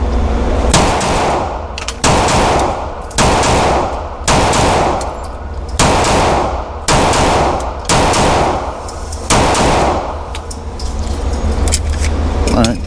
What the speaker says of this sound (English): Let's do a couple double taps.